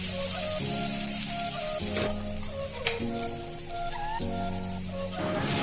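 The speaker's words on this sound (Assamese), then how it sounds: "পিঁয়াজ আৰু নহৰুৰ কেঁচা গোন্ধটো নোযোৱালৈকে অকণমান সময় ভাজি থাকিম" Onion and garlic frying in a wok, a loud continuous sizzle with scraping stirs every second or so and faint ringing tones over it.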